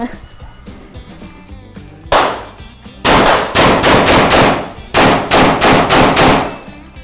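Repeated blasts from a Saricam shotgun at a range, loud and close, with a couple of single shots followed by a fast run of closely spaced reports separated by brief pauses.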